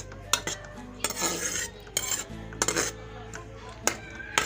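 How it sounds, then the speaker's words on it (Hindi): Onions go into hot oil and get stirred with a spoon, giving repeated metallic clanks and scrapes against the pot over a low, soft sizzle, close by and without speech. "ऑयल गरम हो गया है। अब इसमें मैं प्याज शामिल कर रही हूँ।"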